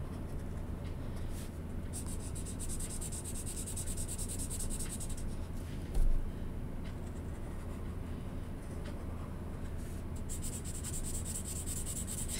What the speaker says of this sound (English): So I'm just coloring the spots.